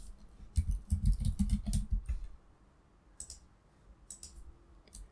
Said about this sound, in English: So we can just type it into a notepad.